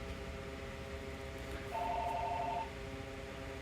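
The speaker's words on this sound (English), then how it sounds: "Sorry, it's a phone call." A telephone rings once in a short electronic warble, heard briefly over a steady background hum.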